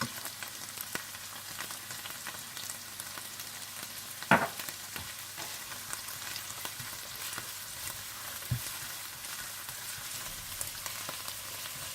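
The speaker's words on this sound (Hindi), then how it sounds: "और जब ऑनियन पेस्ट भून जाए तो आप इसमें अदरक लहसुन डालकर भून लें।" Ginger and garlic frying together with onion paste make a soft continuous sizzle with light crackles and one or two sharper pops, even and close throughout.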